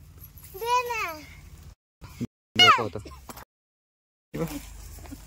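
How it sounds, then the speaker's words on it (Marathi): A cat meows a few times at a campsite in Matheran, short wavering cries close by with brief gaps, mixed in with people talking nearby. "मांजर आली बाहेर."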